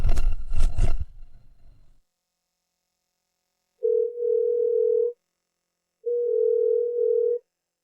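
Two steady ringback tones sound on a telephone call that nobody answers. Each tone lasts about a second and a half and is separated by a pause. Brief speech-like noise comes just before the tones.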